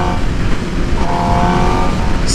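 A Suzuki GSX-R 750 motorcycle exhaust drones steadily nearby, a throaty sustained engine note held at high revs with no voices.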